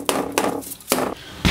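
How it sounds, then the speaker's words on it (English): Sledgehammer striking wood framing while a window is demolished: three heavy, close thuds spaced about half a second apart, with a fourth blow starting at the end. "he's got his sledgehammer"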